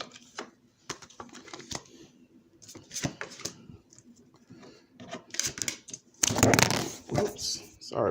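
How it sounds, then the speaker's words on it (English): Paper playing cards being handled, sorted and shuffled for a card reading, with scattered soft snaps and taps followed by a louder riffling burst near the end. "Just give me a minute to sort these cards out."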